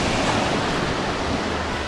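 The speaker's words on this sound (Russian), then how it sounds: "Сейчас вот море волнуется немного." Sea surf on a beach in Cuba, a steady broadband wash of rough water rolling in, fairly loud and unbroken, with no voices.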